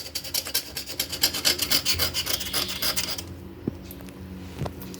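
A blunt knife scraping a crusted salt deposit layer off a surface: a quick series of loud, rhythmic rasping strokes close by for about three seconds, then a few softer scrapes and taps.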